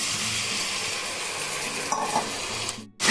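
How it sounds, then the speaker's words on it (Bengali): Spice paste frying with soybean and potato over a medium-low flame gives a steady, close hiss and sizzle, with stirring scrapes near the end before a brief sharp cut to silence; no voices. "তাহলে এইরকমই মিডিয়াম টু লো ফ্লেমে আপনাদেরকে মশলা ভেজে নিতে হবে।"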